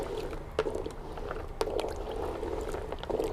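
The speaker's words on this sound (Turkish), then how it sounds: "zeytinlerimizi iyice karıştırıyorum" Green olives being stirred in brine, with soft wet sloshing and a few sharper splashes and knocks at intervals against steady low background noise.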